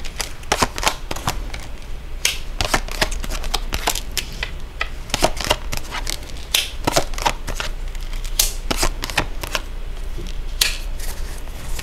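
Tarot cards are shuffled and riffled in rapid, irregular bursts of crisp flicking and snapping, close and fairly loud, continuing without talk.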